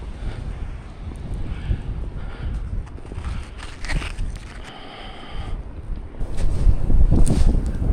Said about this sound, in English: out in the open it's really windy